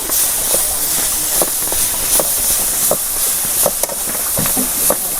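Hot oil sizzling with a constant hiss and scattered sharp crackles and pops as curry leaves hit the pan.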